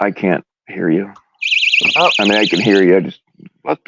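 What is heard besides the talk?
alarm going off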